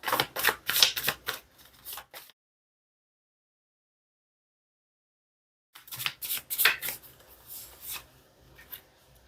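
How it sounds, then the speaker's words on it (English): Tarot cards shuffled in two bursts of quick riffling and flicking, separated by a few seconds of silence. "Let's go ahead and pull out some focus cards."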